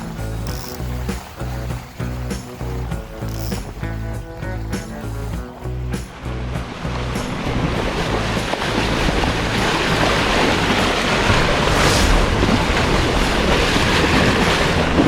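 Sailboat underway on Lake Wānaka, starting with a rhythmic clattering of rigging and hull knocks, then swelling into a steady loud rush of water and wind as the boat picks up speed; no talking.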